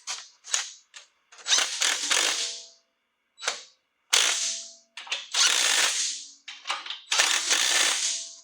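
Bolts being run into a truss on a Jeep JK one-ton axle, heard as a series of sharp, loud bursts of power-tool rattling, each lasting about a second, separated by short pauses.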